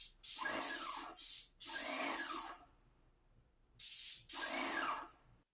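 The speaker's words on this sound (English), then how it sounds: "I turned the sprayer power down to just below mid power on the spray" A paint sprayer set just below mid power mists black paint onto a basement ceiling in three bursts of steady hiss, each lasting about a second or two, separated by short quiet gaps.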